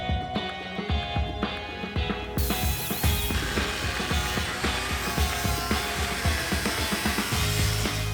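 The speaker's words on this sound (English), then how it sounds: "So we're loosening the rear bumper here because there's more rust to remove." Ratcheting hand tools click and whir in quick bursts as a rusty car's rear bumper is loosened, a busy, close mechanical clatter with metallic gear-like ticking throughout.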